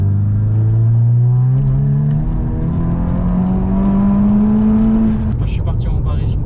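A 480-horsepower stage 3 Volkswagen Scirocco R on the motorway accelerates hard from low revs, its engine note climbing loud and steady with a rising growl before the throttle shifts near the end.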